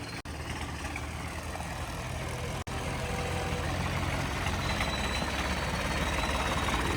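A Swaraj tractor engine runs steadily and loudly at close range, a dense continuous rumble with no talk over it, broken only by two very brief dropouts.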